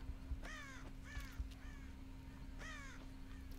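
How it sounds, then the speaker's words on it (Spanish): Several crows in the video game Dead by Daylight caw in short harsh bursts, a couple of calls in quick succession then a pause and another, over a steady low electronic hum. "estamos espantando cuervos"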